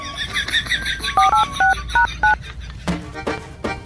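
Mobile phone being dialed, a quick run of bright key beeps followed by several longer, louder dial tones, then a brief clatter and faint voices.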